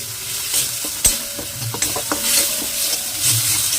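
Food is stirred in a frying pan with hot oil, ahead of adding chicken. A spoon scrapes and taps the pan in close, uneven strokes over a continuous sizzle.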